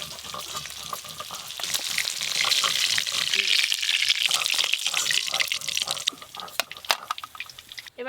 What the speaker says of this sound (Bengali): এবার ইলিশ মাছের মাথাগুলো একসঙ্গে ভেজে নেব।